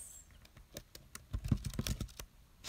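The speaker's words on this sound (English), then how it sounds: "Sorry if that's noisy when I'm typing." Quiet, close keyboard typing: a quick irregular run of soft key clicks and taps, with a short pause before a final burst.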